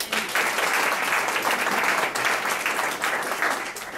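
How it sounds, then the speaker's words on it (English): An audience at a public speech on New York City mass transit gives a sustained round of applause, dense even clapping from many hands lasting about four seconds before tapering slightly. "could you give him a round of applause?"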